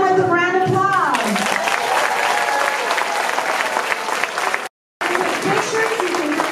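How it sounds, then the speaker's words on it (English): Applause from parents and guests fills the room at an elementary school kindergarten moving-up ceremony, steady clapping following a voice, with a brief cut partway through. "Let's receive them with a round of applause."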